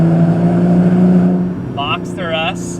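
A Porsche 986 Boxster S fitted with a Fabspeed Supercup exhaust idles with a steady low drone, loud and close, and a voice talks over the engine in the last second.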